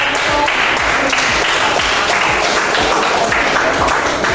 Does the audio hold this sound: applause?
yes